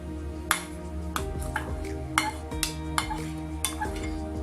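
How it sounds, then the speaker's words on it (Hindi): Fruit chaat being stirred together in a bowl, with a spoon clinking and tapping against the sides in a handful of sharp, irregular knocks over a steady low background hum. "अब हम इसको सबको अच्छी तरह मिक्स कर लेते हैं।"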